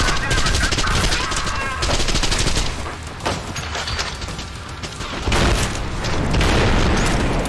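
Explosions and rapid gunfire from the first-person shooter Trepang2, a dense, loud barrage of automatic fire with heavy booms, continuous and overlapping, with a player's voice faintly underneath.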